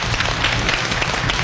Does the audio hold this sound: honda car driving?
no